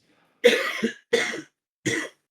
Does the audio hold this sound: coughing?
yes